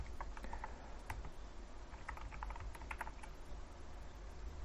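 JavaScript code being typed on a computer keyboard: steady clusters of quick, light key clicks close to the microphone, with a low hum underneath and no voices.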